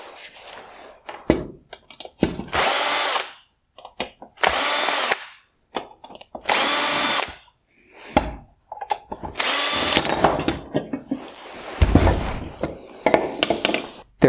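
Power driver on a Chrysler 300 halogen headlight, whirring in several short loud bursts to back out Phillips screws from the projector bowl, with clinks of screws and parts between runs.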